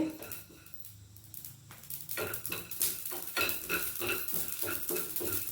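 Poppy seeds and curry leaves crackling in hot oil for a black-eyed pea sundal, close rapid spluttering and popping with a steady sizzle and occasional clinks of a spoon against the pan.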